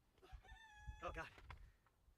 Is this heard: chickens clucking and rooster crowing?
yes